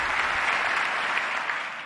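Sustained applause from an audience at a televised political speech, an even, dense patter of many hands that stays loud throughout and eases slightly at the end.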